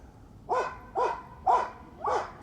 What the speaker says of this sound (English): I'm not really sure what these lot are doing with this dog.